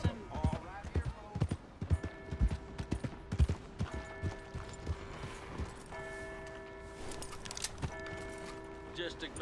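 Horse hooves clip-clop in the Western video game Red Dead Redemption 2, with uneven clopping steps near and loud, mixed with tonal game sounds and a voice speaking over them.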